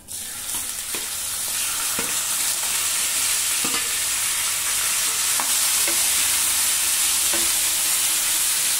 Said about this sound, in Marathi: हे मटण आहे ना, ज्याला थोडंसं आलं लसूण घातलेलं होतं ते चांगलं परतवून घेऊया।